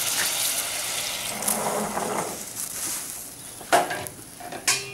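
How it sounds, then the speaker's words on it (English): White wine poured into a pot of mussels on the stove, a steady wet splashing hiss with sizzling throughout, plus a few sharper clinks or knocks near the end; no one speaks. "I'm then going to add my white wine."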